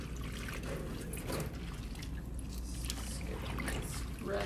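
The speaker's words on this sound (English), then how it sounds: "So I'm just gonna go ahead and kind of scrub them together." Collard greens being scrubbed together by hand in a bowl of salt and vinegar water, a continuous faint sloshing and rubbing of wet leaves with soft drips, quiet and close.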